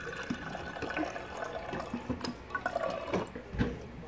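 Water trickles and splashes steadily from a dispenser into a cup, with small drips and clinks, close by and fairly quiet.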